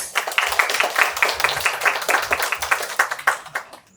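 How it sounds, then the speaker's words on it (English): Small-group clapping for a guest speaker at a language school presentation, close and distinct individual handclaps in a lively uneven patter lasting a few seconds. "Please give him a round of applause."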